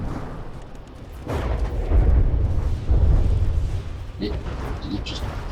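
A patrol craft bot fires torpedoes in the game From the Depths, setting off deep, rumbling explosions that swell into a sustained heavy boom, with lighter crackling impacts near the end.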